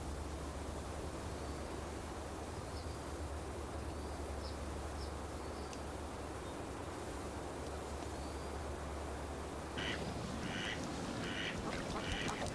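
Wild ducks such as mallard, pintail, green-winged teal, shoveler and wigeon give scattered quacks among reed beds and open water, faint and distant over a steady hiss, with louder calls near the end.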